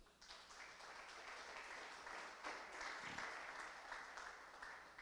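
A church congregation applauds during an evangelical sermon, a steady, moderately distant wash of clapping filling the hall throughout with no pause.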